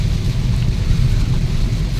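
Steady rain falling during a red-alert downpour in Hyderabad, with water flooding the streets; a dense, continuous low roar with wind buffeting the microphone, no talking.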